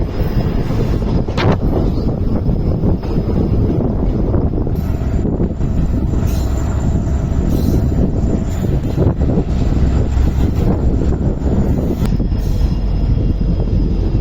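Passenger special train, number 06920 on the Bagalkot to Hubballi run, approaching Mallapur railway station, heard from on board as a loud, constant rumble of running wheels with a few brief squeals and clanks.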